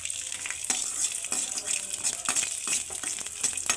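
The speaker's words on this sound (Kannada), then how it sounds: "ಅದೇ ಬಾಣಲೆಗೆ ಬೆಳ್ಳುಳ್ಳಿ ಹಾಕಿ ಸ್ವಲ್ಪ ಫ್ರೈ ಮಾಡ್ತಾಯಿದ್ದೀನಿ" Garlic frying in a pan for a red chilli chutney, a steady close sizzle with occasional crackles and soft stirring scrapes, no talking.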